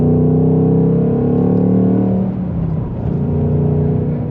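A modified Ford Mustang Mach 1 with a manual gearbox and 5.0L V8 revs hard under acceleration, a loud, deep, steady roar with rising harmonics that dip briefly mid-clip as the gear changes, then build again, close and alone.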